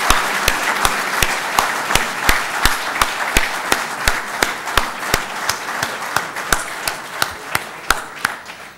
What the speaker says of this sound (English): he deserves a thunderous round of applause from all of us